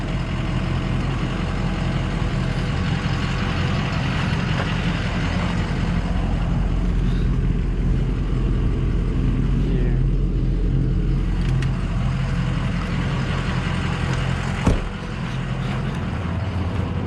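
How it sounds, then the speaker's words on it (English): A 2004 Ford F350 pickup's 6.0-litre diesel engine runs at a steady, quiet idle, a constant low hum with no changes in pace. "I like the way this thing runs. Some of them are a little louder. This one runs nice and quiet."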